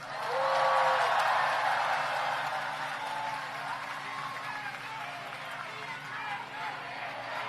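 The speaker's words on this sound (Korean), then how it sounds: "마지막 박수 한번 치세요." A crowd at a political rally claps in a loud burst of applause that gradually thins and fades, with cheering voices mixed in.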